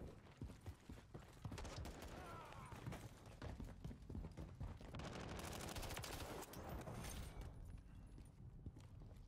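Dense, continuous Call of Duty gunfire in a multiplayer match, rapid overlapping shots and clattering mechanisms filling the whole stretch at steady loudness, with a little voice chat mixed in.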